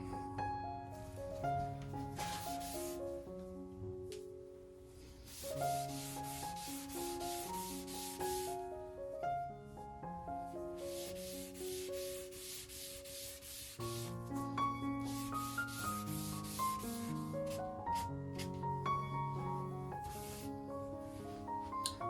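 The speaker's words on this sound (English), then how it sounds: "the application with the conditioner is definitely much better, and it's super even" Cloth rubbing wood conditioner across the surface of an old roadside side table, soft repeated swishing strokes close by, steady and unbroken under a bright, melodic music track.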